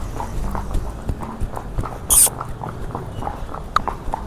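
Hooves of mares being ridden clop in a quick, uneven rhythm close by, with sharp irregular strikes and a brief louder rattle midway, loud and without talk.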